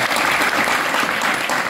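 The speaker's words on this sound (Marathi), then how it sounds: "त्याच्यामुळे एकदा त्या मंडळासाठी एकदा जोरदार टाळ्या होतात" Loud, dense applause from a gathering at an Ashadhi Ekadashi satsang, honouring a women's group, sustained and close for the whole brief moment.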